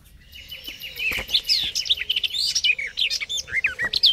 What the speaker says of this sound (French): Ce qu'on aime ici, c'est entendre les oiseaux